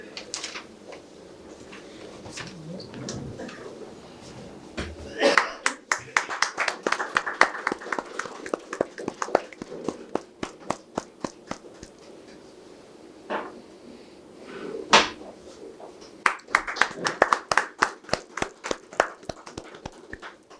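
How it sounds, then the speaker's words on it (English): Scattered claps from a modest audience at a tax masterclass session welcome a speaker, arriving in uneven bursts with quieter gaps between them, some hands close and distinct, alongside faint room noise and a brief voice. "I request everyone to kindly give a round of applause and welcome him."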